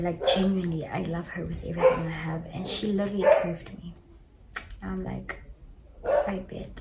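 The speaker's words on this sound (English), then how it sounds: "Excuse my dogs in the back." Dogs bark faintly somewhere in the background of a home while someone talks continuously close by, the barking mostly buried under her voice.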